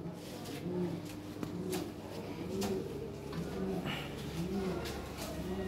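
Lahore Siraji pigeons, a breeding pair, coo in soft repeated rolling phrases at close range, with a steady low background hum throughout.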